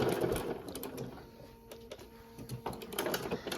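A Bernina sewing machine stitches through a bulky fabric pumpkin with a steady mechanical whirring and rapid needle chatter. It is close and fairly even, easing slightly midway, with no one speaking.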